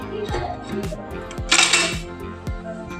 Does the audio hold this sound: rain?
no